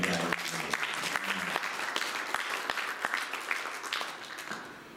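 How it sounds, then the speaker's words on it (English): Luncheon audience applause sounds as a steady wash of many hands clapping throughout, fairly close and even, tapering slightly toward the end with no talk over it. "How about a round of applause for my guy?"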